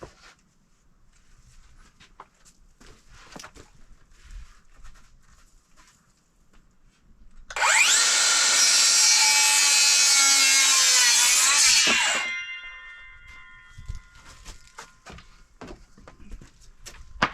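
A wooden board has an inch sawn off outdoors in the snow at an off-grid homestead, giving one loud, continuous four-second burst of power sawing between quieter stretches of scraping and handling.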